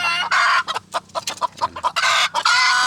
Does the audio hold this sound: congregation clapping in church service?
no